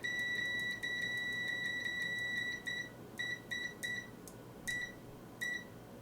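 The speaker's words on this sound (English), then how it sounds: "no matter how quickly I do it, it latches and beeps" A RadioShack True RMS autoranging digital multimeter on continuity test gives a long steady beep, then a series of short quick beeps as the probes touch repeatedly, clear and close over a faint hum.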